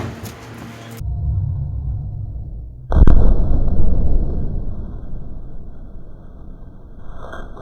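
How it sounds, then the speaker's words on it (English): A tied-off, hydrogen-filled balloon set alight gives one sudden small boom, then a rushing burn that fades over several seconds. "then I light it on fire to see a nice fireball. It gives a nice small boom and some fire."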